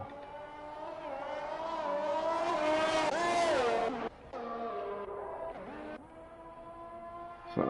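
An F1 race car in the F1 2021 sim, its engine screaming close and loud as it pulls hard through the gears, with sharp cuts at each upshift and the pitch rising again after each one.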